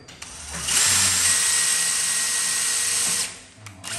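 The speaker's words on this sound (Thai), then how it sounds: "แล้วก็ยิงล็อกไปตัวนึงก่อนนะน็อตปลายสว่านยิงแล้วผม" A power drill drives a self-drilling screw into a steel gate, a steady, loud high whine lasting about two and a half seconds, with short softer bursts of the tool at the start and end and no speech.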